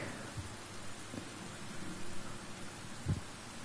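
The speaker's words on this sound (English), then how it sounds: "What a rain." Rain and rolling thunder in the video game Bramble The Mountain King, a steady wash of rainfall with a few low thunder rumbles, a notable one near the end, no talking.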